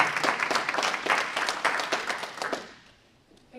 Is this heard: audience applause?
yes